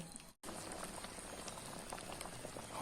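Thick rice porridge (jok) boils hard in a pot, a dense, close bubbling and popping that runs continuously after a brief cut near the start, with no one talking.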